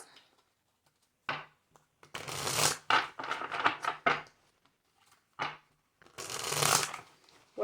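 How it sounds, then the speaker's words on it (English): A deck of cards is shuffled in several quick riffling bursts, close up, separated by short pauses and light handling sounds. "Okay, 4 more shuffles."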